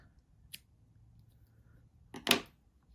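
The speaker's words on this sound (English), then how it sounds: "So this is where your scissors come into play. You're going to cut" Two quiet snips of scissors cutting yarn from a circular knitting machine project, a faint click early on and a louder, longer cut near the end, in a quiet room.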